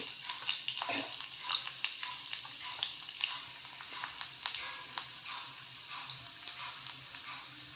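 Crushed garlic frying in a pan for a Marathi curry, a close, crackling sizzle with quick spattering pops and stirring scrapes running throughout, and no talk.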